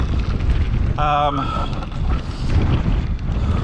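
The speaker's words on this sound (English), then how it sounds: "It's getting windy, into wind, I love that." Strong wind roars and buffets the microphone in constant low rumbling gusts, with a brief voice cutting through partway.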